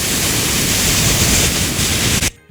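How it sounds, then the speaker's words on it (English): Steady broadband white noise hiss, loud and even, used as the base layer for a balloon sound effect, cutting off abruptly near the end. "Let's start with the white noise balloon sound."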